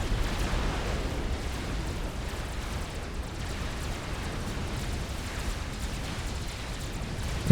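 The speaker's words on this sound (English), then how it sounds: "especially what you can see those cannons opening up on that megalith" Cannons pounding a Megalith in Supreme Commander, a dense continuous rumble of distant booms and crackling bursts blending into a steady roar, with a sharp louder hit at the very end.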